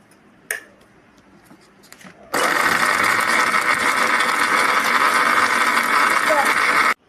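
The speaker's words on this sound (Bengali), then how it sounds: "আমি মিক্সিতে এই সমস্ত কিছু পেস্ট বানিয়ে নিয়ে এলাম" Electric mixer grinder blending a skin paste made with rose water. A few light clicks and handling knocks come first, then the motor starts with a loud, steady, high whir for about four and a half seconds before it cuts off abruptly.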